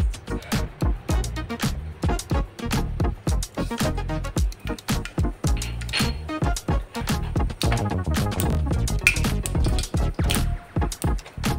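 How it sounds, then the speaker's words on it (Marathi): Mustard seeds crackle in hot oil for a tempering in a kurdai chutney, a dense, nonstop burst of sharp close pops and spits that keeps up throughout. "मोहरी पण आपली तडतडली तेलामध्ये,"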